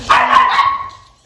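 A dog lets out a single loud, close bark with a short yelp-like tail that fades within about a second, with no talk over it.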